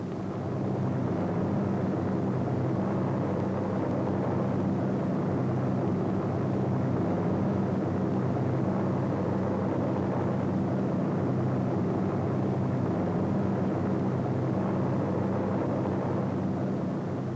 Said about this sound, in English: As these gliders and their tow planes head into France, C-47s, which already have dropped their gliders, pass on their way back to England.